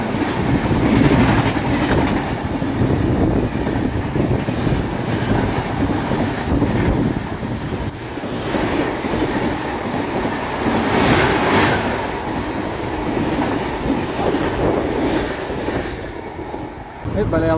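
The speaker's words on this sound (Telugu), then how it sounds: "మనకి ఇక్కడ క్రాసింగ్ పడింది జన్మభూమితోటి." A Visakhapatnam–Lingampalli Janmabhoomi Superfast train passes on the adjacent track at a crossing, heard from inside another moving train: a loud, continuous rumble with wheel clatter and wind rush throughout.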